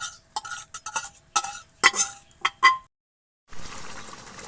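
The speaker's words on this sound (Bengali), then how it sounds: "এখন মাংসটা কড়াইতে আমরা ঢালে নিই কড়াইতে ঢালে নিয়ে আবার কষাবো" Chicken being stirred and sautéed in a karai for a rooster curry, a run of close, sharp scraping and clinking strokes in quick bursts, then a quiet pause before a soft hiss of cooking.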